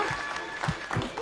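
A studio audience applauds during a televised dating show, the steady clapping close and fairly loud with a few heavier low thumps, with no talk over it.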